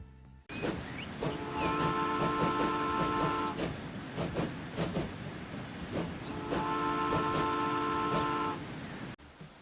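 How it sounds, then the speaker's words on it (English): An 1870s-era train passes in the Transport Fever 2 video game, a rumbling run of clattering wheel clicks with two bursts of steady bell-like ringing tones, loud and close, ending abruptly. "hey, yo, there's a train coming"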